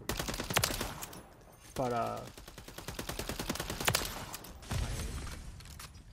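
Holger 556 rifle in the video game Modern Warfare 3, sharp close bursts of rapid gunfire in clustered volleys with an in-game voice cue, under a player briefly speaking.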